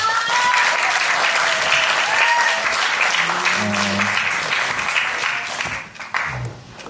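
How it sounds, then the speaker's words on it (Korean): Audience applause at an artist's lecture, a dense wash of clapping filling the room for several seconds, with a voice briefly heard over it before it thins out near the end. "여러분 큰 박수 부탁드립니다"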